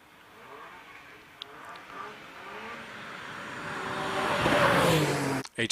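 A 3.4-litre Porsche Cayman climbs the Shelsley Walsh hill, its engine note rising steadily as it revs hard and draws closer, growing loudest near the end before a brief gear-change dip.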